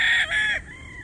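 A farm rooster gives a single short, loud, nearby crow in two strained bursts, with a faint trailing note afterward and no talk.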